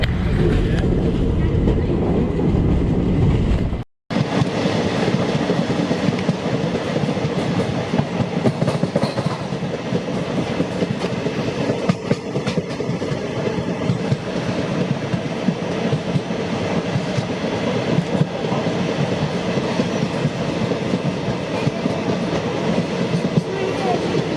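Karnataka Express train rolling on rails, a loud, continuous rumble and rattle heard from aboard, broken by one brief dropout near the start.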